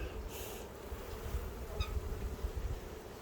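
Soft, constant buzzing of a mass of honey bees in a hive opened for inspection, nearby, a low droning hum with small fluctuations and no talking.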